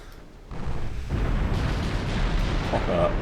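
A battleship shell strikes in a Greek naval warfare game, landing as a heavy, rumbling impact that swells after a brief lull and keeps roaring loudly to the end.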